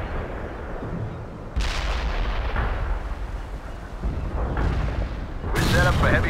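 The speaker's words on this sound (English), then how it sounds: "Artillery firing at coordinates." Artillery barrage in the real-time strategy game World in Conflict: repeated heavy booms and blasts rumbling throughout, with sharp onsets near 1.5 and 5.5 seconds, under game voice chatter.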